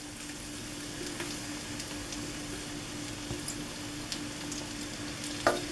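Onion sautéing in olive oil and butter, a continuous soft sizzle with light crackling and an occasional stirring scrape near the end, heard close and with no talking.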